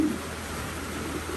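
Pigeons cooing in a loft on a rainy day, a soft low coo opening and closing the moment over a steady background hum.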